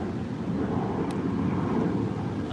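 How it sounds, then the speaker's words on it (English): A steady low rumble of an airplane passing overhead, blended with gusty wind noise on the microphone, continuous and fairly loud throughout. "there is flight going over my head"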